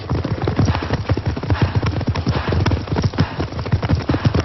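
Racehorses galloping during a training race, a dense stream of rapid hoofbeats thudding steadily and close, with no voices over them.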